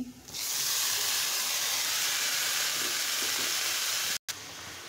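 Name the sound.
chopped ash gourd added to the pan, sizzling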